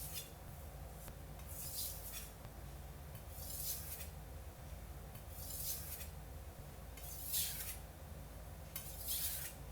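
A Japanese knife is drawn across a finishing stone in five slow, evenly spaced strokes, each a soft gritty swish over a low steady hum, close and quiet with no voices.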